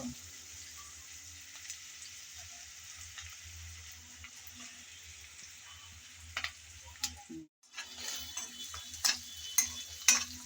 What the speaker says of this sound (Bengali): নেড়ে চেড়ে পেঁয়াজ হালকা ব্রাউন করে ভেজে নিলাম।